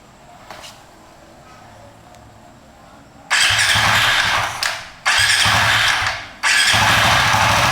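An engine fitted with an MSD ignition coil cranks and fires, going from quiet to loud revving bursts that rise and drop three times, close to the microphone.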